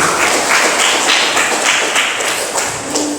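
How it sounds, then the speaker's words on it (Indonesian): A classroom of students claps together in dense, loud applause, with fast overlapping hand claps that stay steady and close throughout before easing slightly at the end. "Tepuk tangan lagi."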